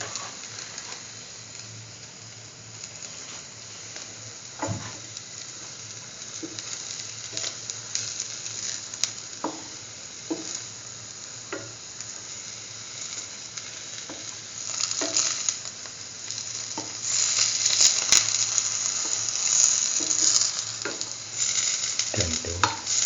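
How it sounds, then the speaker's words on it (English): Chayote potato toast sandwich dipped in chickpea flour batter frying in a pan, a continuous soft sizzle with occasional light pops and stirs, growing louder toward the end, no voices. "After dipping in the batter, let it fry."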